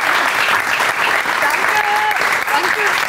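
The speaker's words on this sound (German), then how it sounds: "Nochmal einen großen Applaus." An audience applauds loudly and continuously at a live school show, dense clapping from many people with voices calling out over it.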